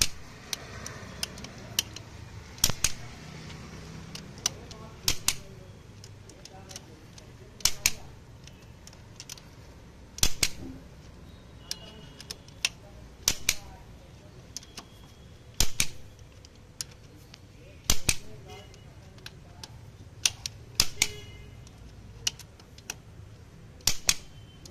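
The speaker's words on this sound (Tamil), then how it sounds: "இப்போ டார்க்லாம் நான் அடிச்சேன்" A torque wrench tightening the cylinder head bolts on a Swift Dzire engine set to 35 lb, giving sharp isolated clicks spaced a few seconds apart over a low background hum in a workshop.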